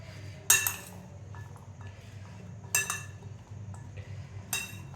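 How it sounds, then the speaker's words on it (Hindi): A spoon strikes a bowl while the ingredients of a chana chaat are mixed: three bright clinks spaced about two seconds apart stand over a low, steady rustle of stirring, fairly close and moderately quiet. "अब हम इन तमाम चीज़ों को अच्छे से करेंगे मिक्स"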